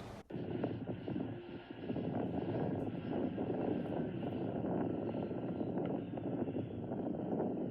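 Airplane flying over a lake, a continuous droning engine roar that holds steady and fairly loud for several seconds, with faint wind noise and no talk.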